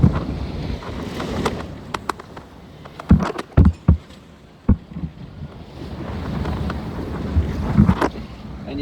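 Strong wind of about 20 knots buffets a sailboat at sea, with roaring gusts across the microphone, sloshing waves around six feet, and a few sharp knocks and creaks from the boat.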